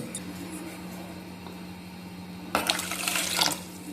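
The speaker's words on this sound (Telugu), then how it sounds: "ఒక గ్లాసు ఇంకొక అర గ్లాస్ కూడా వేస్తాను" Water from a glass pours into a pot in a short, close splashing burst in the second half, following a quieter stretch of low background hum.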